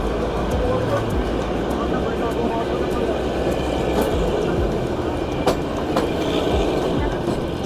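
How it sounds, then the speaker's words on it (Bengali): The Shivalik Express toy train rolls along the narrow-gauge Kalka–Shimla mountain railway, with a steady rumble of wheels on the rails, rhythmic clacks and periodic thumps heard from inside the carriage while someone talks. "আমাদের এই ট্রেনটি শিবালিক এক্সপ্রেস"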